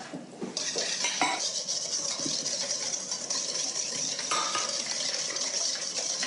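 Egg yolks and sugar whisked together in a bowl for a Saint Honoré pastry, a steady close-up scraping and ticking of the whisk against the bowl that continues without pause.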